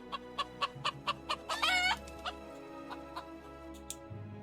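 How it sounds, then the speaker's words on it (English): Chickens clucking in a steady run of short, evenly spaced clucks, with a brief louder squawk in the middle and a few fainter clucks after it, fairly close and with no talking. "Hear the calls of the chickens"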